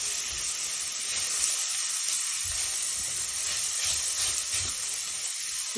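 Food frying in a pan for a mixed meat, mushroom and plantain dish, a steady close sizzle with soft scraping as it is stirred, no talking.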